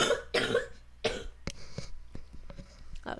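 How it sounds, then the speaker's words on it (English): Several sharp coughs in quick succession, then quieter throat noises and faint clicks in a small room. "Oh, sorry, I just have to cough."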